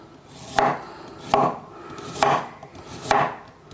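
A knife slices across carrots on a cutting board for chow mein, four separate crisp chopping strikes at an even, unhurried pace, close and clear with no talk.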